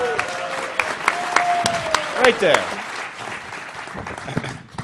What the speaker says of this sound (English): Everybody give Brian a round of applause.